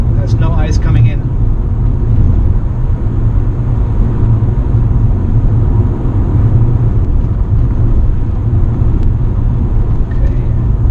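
Plug-in hybrid car accelerating at full throttle with no combustion engine running, a steady low electric drive rumble and road noise filling the cabin continuously, with brief talk at the start.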